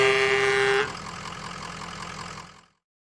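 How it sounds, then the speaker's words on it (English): A tanker truck sounds a loud, brassy air horn blast for under a second, then its engine idles and rumbles on until fading out. "tanker truck,"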